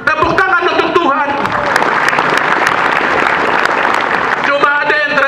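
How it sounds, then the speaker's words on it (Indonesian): Church congregation clapping, a loud sustained burst of applause from many hands with voices under it at the start and end. "Tepuk tangan untuk Tuhan"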